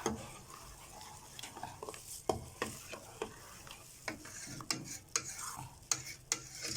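Ground cumin, coriander and black pepper stirred in a pot, a quiet soft sizzle broken by repeated spoon taps and scrapes against the metal in an irregular rhythm, without speech.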